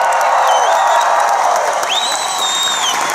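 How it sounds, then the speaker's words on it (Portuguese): A crowd cheers and applauds in honour of comics creator Stan Lee, a steady dense wash of clapping and whoops with a couple of high whistle-like shouts rising above it. "Palmas pro Stan Lee."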